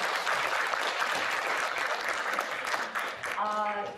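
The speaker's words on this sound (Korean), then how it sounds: "뜨거운 박수 드리겠습니다." An audience at a library colloquium breaks into warm applause, a continuous dense clatter of many hands lasting most of the stretch before a voice comes in near the end.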